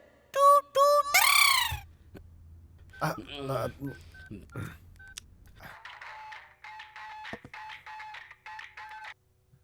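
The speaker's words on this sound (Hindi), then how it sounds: "बार बार डायल करके क्यों परेशान कर रहे हो?" Telephone keypad tones as a number is dialed again and again in a Hindi-dubbed action comedy film, short sharp beeps in bursts broken by other effects and a sequence of evenly spaced tones near the end.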